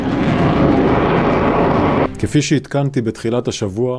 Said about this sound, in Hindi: इजरायली फाइटर जेट ने एक बार फिर दक्षिणी लेबनान पर जबरदस्त एयर स्ट्राइक की।